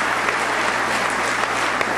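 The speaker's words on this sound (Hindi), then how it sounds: "इन बातों में महिलाओं ने उल्टा तालियां बजाई" A crowd at a Hindi poetry recital (kavi sammelan) claps in a thick, even wash of applause, with a faint low electrical hum underneath.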